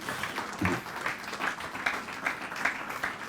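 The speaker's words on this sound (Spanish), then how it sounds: "Dale esa ofrenda de palmas al Rey en el nombre de Jesús" A church congregation claps in a steady rhythmic beat, about two claps a second, moderately loud and continuous, with no speech over it.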